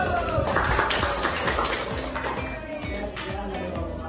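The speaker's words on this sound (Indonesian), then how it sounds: "Tepuk salut." A class of students performs a rhythmic 'tepuk salut' clapping routine during a lesson, with steady patterned claps running under group chanting and voices throughout.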